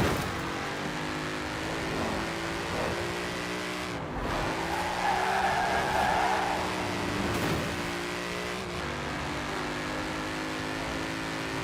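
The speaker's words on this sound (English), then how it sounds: "when you get your foot down in second, third, fourth and fifth gear, it just pulls and pulls, and it also sounds pretty cool as well." A fast car in the racing game Forza Horizon 4 accelerates hard. The engine's loud, steady drone climbs in pitch and drops back at each gear change, with tire squeal throughout. No voices.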